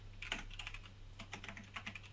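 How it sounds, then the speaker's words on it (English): Quick bursts of typing on a computer keyboard, soft clustered key clicks in irregular runs with brief pauses, faint and close, no talk. "I hear lots of typing, so I feel like I'm about to get a question."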